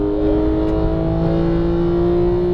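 Porsche GT3 991 engine pulling hard on a racetrack at Exotics Racing Las Vegas, a loud, close, steady high-revving drone with strong tonal whine heard from inside the car, no voices.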